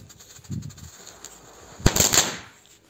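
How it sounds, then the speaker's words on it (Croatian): A crackling pirat firecracker goes off with one sharp, loud bang followed by a dense burst of crackling pops lasting under a second, after some quieter rustling. "Znači evo kako puca crackling pirat."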